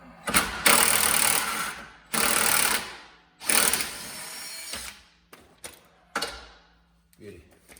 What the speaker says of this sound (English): Let's put the Wizzy gun on there